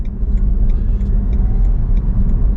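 A car engine rumbles loudly from inside the cabin, a deep steady drone with a faint rising whine as it accelerates.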